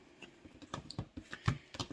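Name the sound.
shuffling a deck of tarot cards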